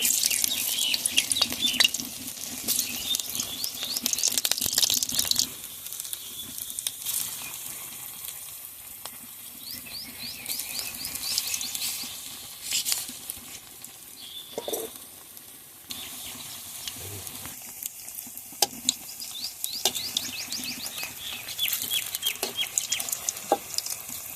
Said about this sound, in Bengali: তেলটা গরম হয়ে গেছে এখন আমি একটা একটা করে দিয়ে ভেজে নেবো